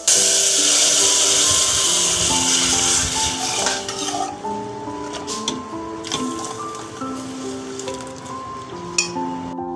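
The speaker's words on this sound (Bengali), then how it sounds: "এখন আমি বাগার দিচ্ছি" Hot oil sizzles loudly as fried onion, garlic, dried chili and panch phoron are poured into cooked dal for a tempering, a dense hiss that fades into softer bubbling with scattered clinks of a utensil.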